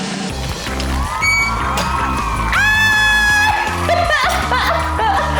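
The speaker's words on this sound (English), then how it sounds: "And the crowd goes wild." A lively crowd at an Italian-themed baking night with a chef, loudly cheering with high rising whoops and shouts, noisy and close throughout, over a steady rhythmic beat.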